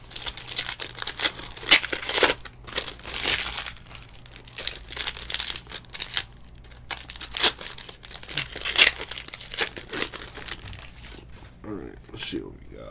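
Hands rip open a 2019/20 Certified basketball card box and its packs, making close, busy crinkling of plastic wrap and short tearing sounds in uneven bursts, with someone talking throughout.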